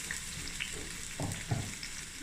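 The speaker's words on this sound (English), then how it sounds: "Your peppers, assorted colors, just throw it in, cut it any way you like." Assorted bell peppers dropped into a hot pan with garlic and ginger for a mussel stir-fry, giving a constant close sizzle and a couple of soft thumps and stirring bumps, with no talking.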